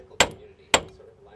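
Hammer striking a car's ball joint during replacement: two sharp metallic blows about half a second apart, close and loud, with a faint ringing tone between them.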